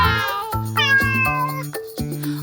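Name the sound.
cat meowing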